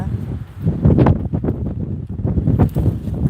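Wind gusting across a microphone outdoors in a garden, a steady loud rumbling buffet that swells and dips throughout, with faint rustling on top.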